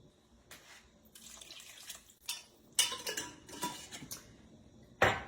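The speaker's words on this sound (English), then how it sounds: "Give it a good stir." Veggie beef soup being stirred in a pot: a spoon scrapes and clinks against the metal while liquid sloshes, in uneven bursts with sharper knocks near the end, and no talking.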